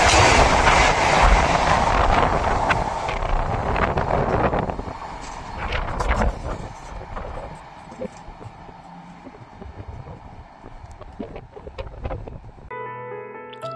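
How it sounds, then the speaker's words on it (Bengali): The Howrah–Patna Vande Bharat Express runs past, loud rushing wheel noise and rhythmic clickety-clack on the rails that gradually fades as the train recedes, leaving quieter rattles behind. "train number 22347 Howrah Patna Vande Bharat express, যেটি হাওড়া স্টেশন থেকে ছেড়েছে বিকেল 3:50"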